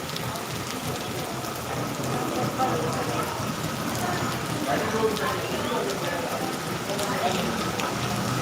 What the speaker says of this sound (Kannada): ನಮ್ಮ ಕಡೆ ಇವತ್ತು ಮಳೆ ನೋಡಿ ಈಗ ಸ್ಟಾರ್ಟ್ ಆಗಿಬಿಟ್ಟಿದೆ